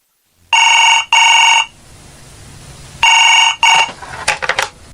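Telephone bell ringing in two loud double rings separated by a pause, close and clear, followed by a handset being picked up with brief clatter.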